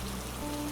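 Steady rain patters in a dense, even hiss with a faint low hum beneath, continuous and close.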